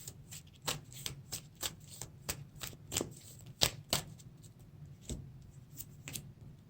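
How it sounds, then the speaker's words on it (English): A deck of cards for a Lord of the Rings card game is shuffled by hand, giving a rapid run of crisp riffling and slapping bursts. The bursts are close, moderately loud and irregular, with no voices. "Shuffle our deck."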